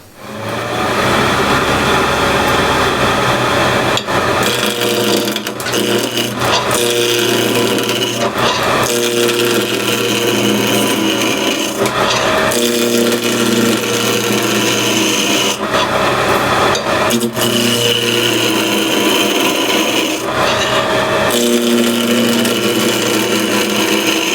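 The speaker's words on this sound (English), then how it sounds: "Bring the tool rest, and I'll rough this down with the skew." A wooden Christmas ornament is roughed down on a lathe with a skew, giving a loud, continuous raspy scraping over the spinning whine, broken by short pauses as the tool lifts off and re-engages the wood.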